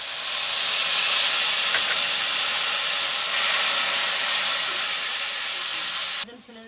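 Green chili paste sizzles loudly in a hot pan, a steady bright hiss that holds for about six seconds before dropping off abruptly near the end.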